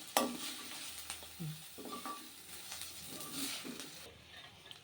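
Cashews frying in oil for a cashew chicken curry, a soft sizzle with intermittent stirring scrapes and small clinks, faint and close, no talking.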